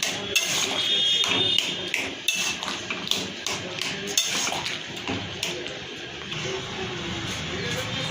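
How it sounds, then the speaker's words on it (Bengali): Boiled vegetable curry being stirred in a pot, loud close clatters and scrapes of a metal spoon against the pot in an irregular rhythm, no talking. "এবার এটাকে ভালো করে ঘুটে দেবো, তরকারিটাকে ঘেটে দিতে হবে"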